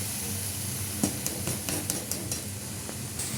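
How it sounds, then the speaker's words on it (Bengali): Water poured into a hot pan of cooking greens gives a steady steam hiss, with faint scattered clicks and sizzles throughout and no talking. "শাকটা সিদ্ধ হওয়ার জন্য একটু জল দিয়ে দিলাম।"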